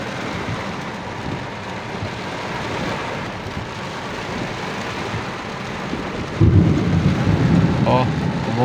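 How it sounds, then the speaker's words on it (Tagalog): Steady rain hisses throughout while a low rumble of thunder rolls underneath, swelling louder near the end, heard from a car during a driving lesson. "Oh, kumukulog-kulog pa."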